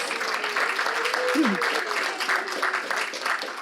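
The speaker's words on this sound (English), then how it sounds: "How about a round of applause for the little ones?" Wedding guests applaud the children with a continuous, moderately loud patter of clapping, while a brief voice cuts through in the middle.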